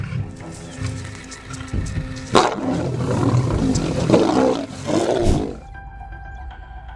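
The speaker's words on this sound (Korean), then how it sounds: "무리가 뒤로 물러나자 사자들은 다시 포위를 좁혀오며" Lions circling a buffalo herd give deep, loud roars and growls that swell and rise in two long bursts over a rumbling background, then fade to a quieter hum.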